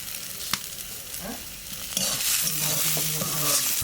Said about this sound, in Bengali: ঘাটকল তো ভাজা হয়ে গেল